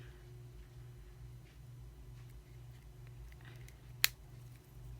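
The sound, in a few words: cutting jewelry extender chain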